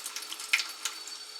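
Canned beans are drained into a kitchen sink without a strainer, giving a faint, brief trickle and splash of water with a couple of soft drips.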